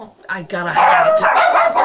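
Dogs bark and yip in a home while someone talks over them, the barking loud and close through most of the moment.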